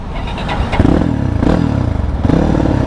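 A Gazgas GE 250 Indonesian trail motorcycle runs close by, its exhaust giving a loud, rough, throaty note with a few sharp revs over the steady engine sound.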